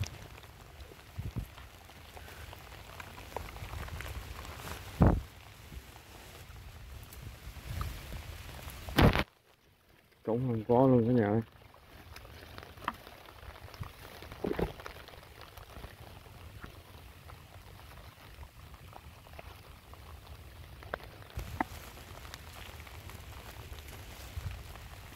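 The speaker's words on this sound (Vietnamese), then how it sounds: "tại trời mưa quá" Heavy rain pours steadily during a rainy-season outing setting frog-fishing lines, a constant close hiss with scattered drop impacts, broken by a brief near-silent gap and handling noises, while a person talks briefly.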